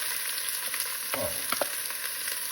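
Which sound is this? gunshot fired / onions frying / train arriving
onions frying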